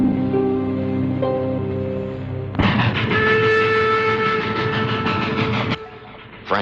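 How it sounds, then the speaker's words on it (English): A moving train rolls along with a steady rumble and rhythmic clatter of the rail cars, loud and close, joined midway by a sustained whistle tone before the sound drops away near the end. "The train was moving right along."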